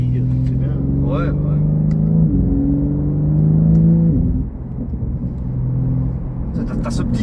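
BMW M3 Competition with a DKG dual-clutch gearbox droning loudly as it drives, the engine note climbing and dropping sharply at two gear changes partway through, with a lighter rev toward the end.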